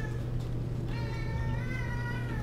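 A pet cat gives a single drawn-out meow of moderate volume over a steady low hum, with no talk during the call.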